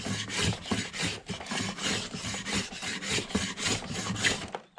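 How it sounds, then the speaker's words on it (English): A hand plane shaves wood in a quick series of about a dozen rasping strokes, close and loud, each stroke a rough scrape repeated at a steady rhythm, with no voices. "you can see we can take off good size shavings"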